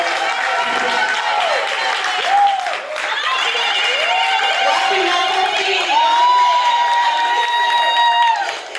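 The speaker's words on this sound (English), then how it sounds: "thank you for this stormy applause for me" Loud, stormy applause and cheering from an audience at a live cooking event as a town mayor is welcomed, dense clapping with whoops and shouts carrying throughout.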